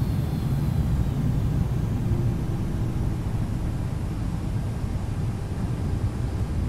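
A Boeing 757 freighter touching down in the X-Plane 11 flight simulator, a steady broadband roar of engines and airflow with no distinct events, constant and fairly loud throughout.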